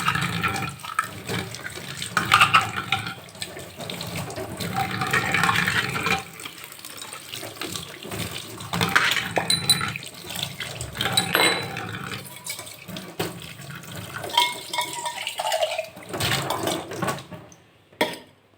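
Copper and silver vessels are washed with soap, tamarind and water, with running water splashing in uneven bursts and occasional metallic clinks, close by and without voices.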